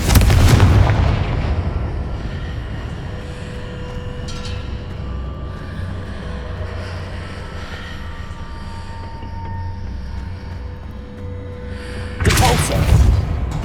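Confringo blast spells in Hogwarts Legacy erupt in heavy booming explosions, a loud blast at the start and another near the end, with a low rumbling roar sustained between them.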